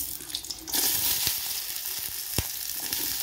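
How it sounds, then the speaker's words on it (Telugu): Capsicum and onion frying in oil in a pot make a close, steady sizzle, with a sharper hiss as ingredients hit the oil and a few stirring clicks. "ముందుగా ఒక గిన్నెలో ఆయిల్ వేసుకొని ఫ్రై చేసుకోవాలి."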